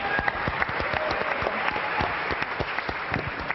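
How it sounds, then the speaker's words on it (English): An audience at a startup pitch competition applauds steadily, a dense, even patter of many hands clapping at moderate volume, with no talk over it. "Big round of applause then for Spoton"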